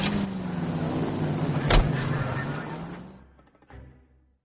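Car driven in L.A. Noire, a steady close engine drone with a sharp bump partway, fading out near the end as the engine stops.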